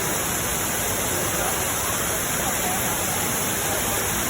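River water pouring through small waterfalls at a hotel, a constant dense hiss and rush of falling water with no break across the whole stretch.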